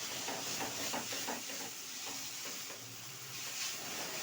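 Chinese noodles cook in a hot pan with a steady, close sizzle and hiss of steam, broken by faint scraping stirs, with no voices.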